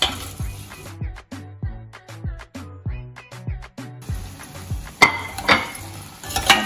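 Fried potatoes are stirred into a sticky honey chilli sauce in a pan, with repeated clinks and scrapes of a spatula against metal over a low sizzle, close and rhythmic, growing busier toward the end.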